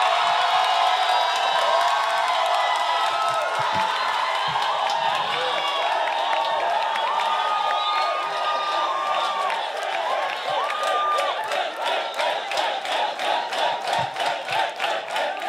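A crowd at a TikToker dance battle cheers, whoops and shouts loudly and continuously for a dance duo, with rhythmic clapping building toward the end and a voice speaking over the noise.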